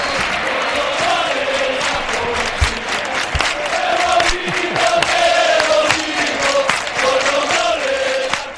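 Real Betis supporters chanting in unison at the Benito Villamarín stadium, a large crowd singing a rhythmic, melodic chant with scattered claps, steady and loud throughout.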